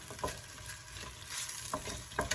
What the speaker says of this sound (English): you also want to keep it stirring because you don't want it to start sticking to the bottom and burn